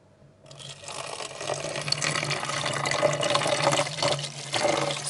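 Tap water pours steadily into a bottle, starting abruptly and running as a continuous close rushing stream that grows slightly fuller as it fills.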